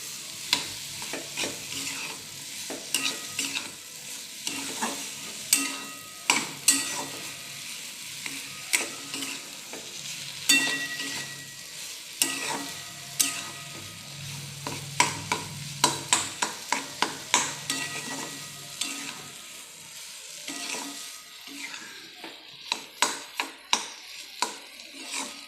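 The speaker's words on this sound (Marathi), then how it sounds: "आणि ही साखर, पाच मिनिट परतून घेते।" Sugar roasting in a pan under a steadily worked spoon, for Satyanarayan puja prasad, gives repeated close scrapes and clicks, sometimes in quick bursts, over a faint sizzle, with no voices.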